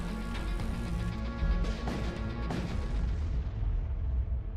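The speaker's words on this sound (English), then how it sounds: "It exploded." A ship explodes in the space strategy game Void War, a dense rumbling blast with repeated crashing booms rolling over several seconds before the sound thins and fades.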